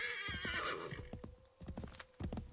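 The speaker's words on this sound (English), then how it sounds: "I hate horses in this game." Horse hooves clip-clop in the video game Assassin's Creed 3, a quick run of close, sharp hoofbeats with a whinny-like tone at the start, briefly pausing before resuming.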